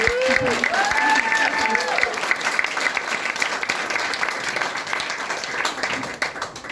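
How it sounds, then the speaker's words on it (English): A crowd of supporters applauds at the grand opening of a mayoral campaign office, sustained clapping with some cheering and a voice rising over it in the first couple of seconds. "One more round of applause for everyone."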